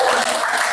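A brief burst of dense applause from an audience at the close of a classroom group presentation, loud and continuous for under a second.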